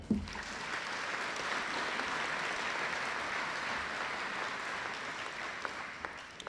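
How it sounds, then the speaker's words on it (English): Sustained audience applause at a 2018 school awards presentation, a dense steady clatter of many hands filling the hall, holding even from start to finish with no voices over it. "can we please give them all a round of applause?"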